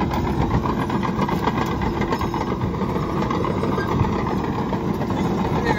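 Komatsu D61PX-24 bulldozer engine running steadily at close range while the machine pushes dirt, rock, concrete and asphalt, a continuous low rumble with a broad mechanical roar and no pauses.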